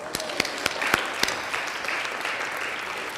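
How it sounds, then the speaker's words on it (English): Dinner keynote audience breaking into applause, a few loud, sharp individual claps nearby at first, then swelling into a steady wash of many hands. "And then give them an applause"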